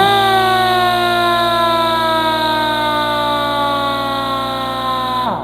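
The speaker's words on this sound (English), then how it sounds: "we're obviously waiting for the compressor to build the pressure up to have another go" A Viair 400C 12 volt air compressor fitted to a Land Rover Defender 110 runs continuously, a loud steady whine and hum building pressure with a gradual pitch drop before cutting off at the end.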